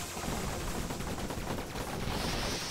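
Rapid automatic gunfire from a large gun in the video game Fission Superstar X, a loud, dense, continuous burst of rattling shots with no pauses.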